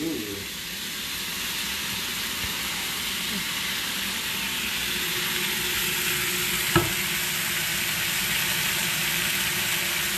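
Sesame chicken being folded and stirred with a spatula in a frying pan, giving a steady sizzling hiss with soft scraping throughout and one sharp knock partway through.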